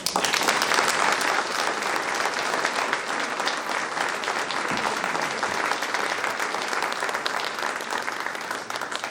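An audience in Tarnos applauds steadily for Jacques Gilbert as he receives the town's medal at the New Year's greetings ceremony, a dense, loud and unbroken wash of clapping lasting throughout.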